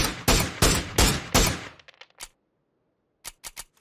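Gunfire in PUBG on the Erangel map: five loud, evenly spaced shots, then a few faint clicks and one more crack, a pause of silence, and a final quick burst of three to four shots.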